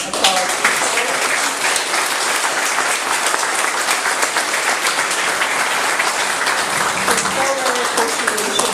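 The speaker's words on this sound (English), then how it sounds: "Let's give them a round of applause." Audience at a historical symposium in Inverness gives award recipients a round of applause: thick, continuous clapping at steady loudness throughout, with a hint of voices mixed in.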